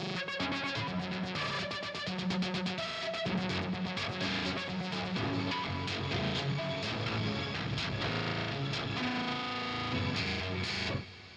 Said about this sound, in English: So some of them are freezes and little stops and stuff.